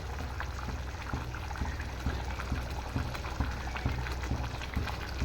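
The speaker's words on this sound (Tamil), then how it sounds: "மீன் போட்ட பின்னாடி ஒரு அஞ்சு நிமிஷம் கொதிச்சாவே மீன் வெந்துடும்" Jilebi fish curry boils in a pot after the river fish has gone in. A loud, steady, close bubbling keeps up throughout, with rhythmic blips and gurgles. No one speaks.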